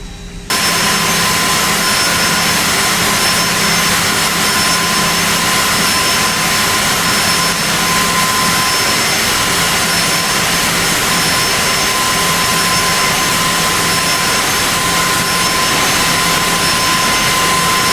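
A jet airliner in the X-Plane flight simulator taxis to the runway holding point with a loud, steady engine roar and high whine, unbroken throughout.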